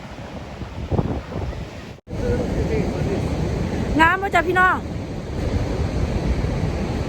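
Ocean surf breaks at Garie Beach, Australia, as a broad, steady rush under heavy wind buffeting the microphone. A brief dropout cuts in near the start, and someone speaks over the waves partway through.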